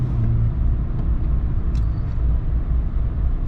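A 2021 Chevy Duramax 3.0 diesel pickup towing 12,000 pounds drones steadily at low, even revs on a back road, a continuous close-up cabin rumble with no voices over it.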